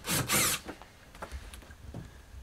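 A power drill removes the bolts that hold an RV dinette table to the floor, with two loud, close bursts of whirring followed by quieter scraping and handling noises.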